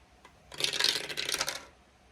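A brief clattering rattle of dice tumbling across a hard surface, a burst of rapid small clicks lasting about a second, close and fairly loud.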